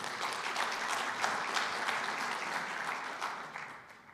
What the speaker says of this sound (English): If I can get a round of applause for our sponsors.